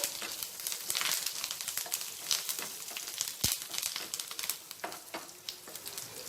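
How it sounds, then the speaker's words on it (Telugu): Garlic pieces and curry leaves frying in a pan for chilli garlic rice, a steady crackling sizzle with scattered sharp pops and stirring scrapes, close and continuous without talk. "ఇప్పుడు ఈ గార్లిక్ ముక్కలు వేగిపోయాయి"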